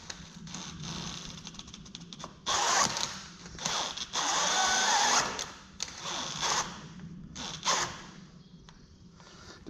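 A power drill whirs in uneven bursts, straining and easing off repeatedly, fairly quiet and close.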